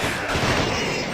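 Gunfire from the video game John Carpenter's The Thing, a dense burst of shots blending into a continuous noisy roar for about a second, loud and without speech.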